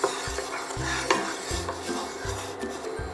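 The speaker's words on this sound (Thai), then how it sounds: "ใส่น้ำมันพืชลงไปเล็กน้อยนะคะ จากนั้นก็คนให้ทั่วกระทะค่ะ" Steady scraping and stirring of a little vegetable oil in a frying pan, repeated strokes about every three-quarters of a second, with a faint sizzle and occasional utensil clinks, close by.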